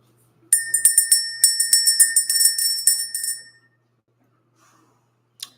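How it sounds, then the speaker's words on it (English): A small bell is rung rapidly over and over, a rhythmic string of bright, ringing strikes lasting about three seconds before falling silent, heard up close in a quiet room. "Let's ring the bell."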